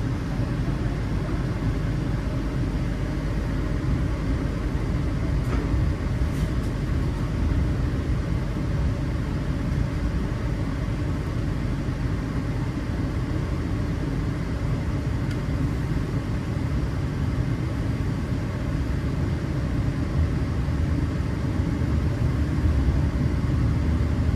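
KA Bogowonto stainless steel economy train departing a station, a steady broad rumble of rolling wheels and engine continuing evenly throughout at constant loudness.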